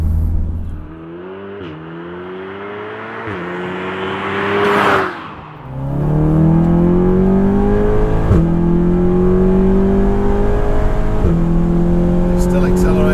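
A 600 bhp all-wheel-drive Seat Cupra pulls hard from inside the cabin, its engine note climbing steadily through several gear changes with brief dips between them, loud and continuous, while occupants talk over it.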